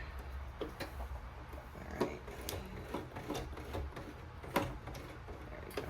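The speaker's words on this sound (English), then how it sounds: "On this Brother machine, it's stitch number 29 to overlock." Brother sewing machine running an overlock stitch, a quiet rapid mechanical ticking and whirring with sharp clicks at irregular moments, fairly faint and close.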